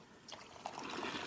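Hot water runs from the dispenser of an Isomac espresso machine, a steady close trickle and splash of liquid that holds level throughout with no talk.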